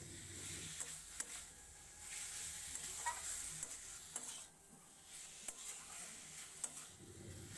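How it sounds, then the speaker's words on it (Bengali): Minced chicken frying with spices in a pan, a steady sizzle broken by repeated scraping stirs and light clicks of a utensil against the pan, close and continuous with no voices. "ভালো করে নাড়াচাড়া করে নিয়ে ঢাকা দিয়ে দিয়ে চিকেনটা ভালো করে আমি কষিয়ে নেব মশলার সাথে"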